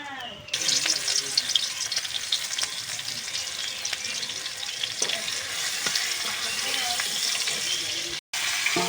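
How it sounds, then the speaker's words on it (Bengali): Crushed garlic frying in hot oil, a loud continuous sizzle close by with occasional spatters and stirring clatter, briefly cut off near the end. "রসুন তেলে দিয়ে রসুন তেলে দিয়ে দিয়ে তারপর শাক ঢেলে দিলাম"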